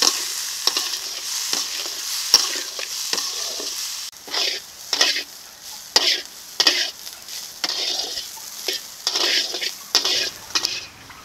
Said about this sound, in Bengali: বটবটি আলু ভাজা হয়ে গেছে, এখন নামিয়ে নেব।